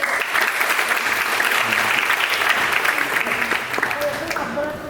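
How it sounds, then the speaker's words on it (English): A crowd applauds at a Republic Day prize ceremony at SCB Medical College, steady dense clapping that fades slightly toward the end, with voices audible beneath it. "Let's have a huge round of applause for Dean Sir and Vijay"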